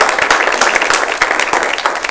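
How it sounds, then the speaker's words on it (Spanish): An audience at a public-interest media colloquium gives a short burst of steady, dense applause. Many hands clap together at close range, with no voices over it. "Aplausos."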